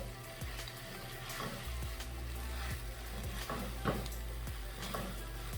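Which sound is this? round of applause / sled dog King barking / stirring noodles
stirring noodles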